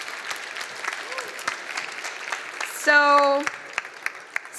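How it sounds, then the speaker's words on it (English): Audience applause at a startup conference as non-profit speakers return to the stage, moderate and steady, with a short synthetic tone partway through and a voice briefly heard at the start. "Please applaud them."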